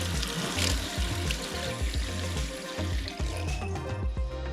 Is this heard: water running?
yes